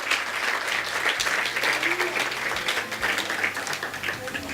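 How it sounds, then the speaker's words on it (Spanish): A church congregation claps together in steady, lively applause, a dense wash of hands filling the room while a voice carries faintly underneath. "Denle un aplauso al Señor con todo su corazón"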